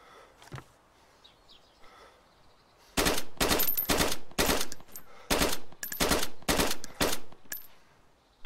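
Rifle gunfire in the video game DayZ: after a quiet stretch, a rapid string of loud sharp shots in short bursts, about a dozen reports with brief gaps between them.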